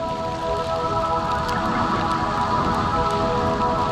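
Steady rain patters on a rain jacket worn while riding outdoors, a dense, constant hiss of drops close to the microphone with no voices.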